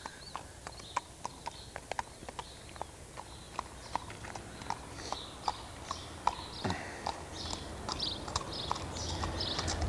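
A horse walking under a rider, its hooves striking in a steady clip-clop that continues throughout at close range, with light background noise and no talk.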